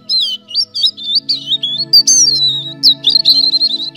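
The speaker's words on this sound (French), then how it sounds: "le rouge-gorge a chanté" A European robin singing: rapid, high, warbling phrases and thin trills delivered close and clear, with steady low instrumental tones sustained underneath.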